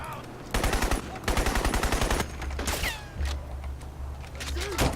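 Rapid automatic gunfire from the 2007 shooter game Crysis, bursts of close, loud shots in quick rhythm, with brief gaps and some whooshing effects; a voice talks briefly between bursts.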